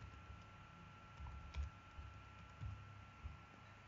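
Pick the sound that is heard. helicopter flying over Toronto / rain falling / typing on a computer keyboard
typing on a computer keyboard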